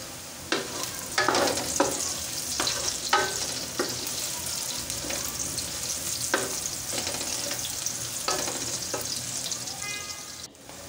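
Shahi jeera (caraway cumin) fries for chicken biryani, a steady close sizzle broken by sharp scraping stirs at irregular intervals.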